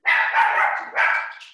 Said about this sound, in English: There's the barking dog.